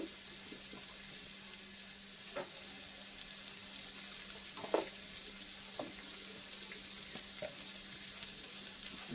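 Food seasoned with salt and turmeric fries quietly in a pan, a faint even sizzle broken by a few sparse stirring clicks, with no one speaking.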